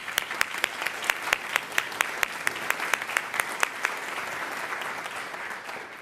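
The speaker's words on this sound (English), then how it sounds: "Let's give her a round of applause." A round of applause from a commencement ceremony crowd for the anthem singer at a WGU Missouri graduation, a broad wash of clapping with one nearby clapper's sharp, rhythmic claps standing out before fading.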